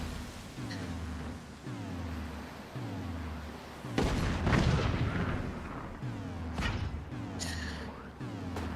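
Weapons in the game Forts fire in a run of deep, booming blasts, one every second or so with sweeping tonal trails, then a heavier barrage hits in the middle.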